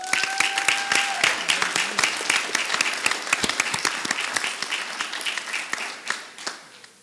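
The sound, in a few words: audience applause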